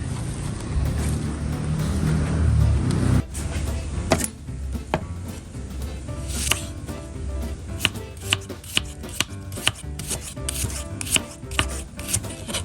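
A knife slicing shallots or herbs thinly on a cutting board for a Thai pork-leg rice soup, rapid sharp taps in a quick irregular rhythm, close and clear after a louder rumbling opening, no speech.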